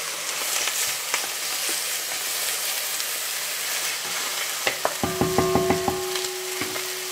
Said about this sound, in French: On va la faire revenir sur toutes les faces. Voilà. On la fait colorer.